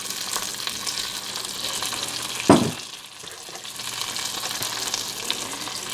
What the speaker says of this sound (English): we're going to fry up our last two pieces